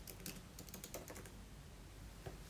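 Quick keystrokes on a computer keyboard while a French school-assignment title is typed into a Notion calendar, with clicks in short bursts, close and fairly quiet, and no voices.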